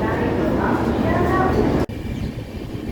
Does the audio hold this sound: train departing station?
yes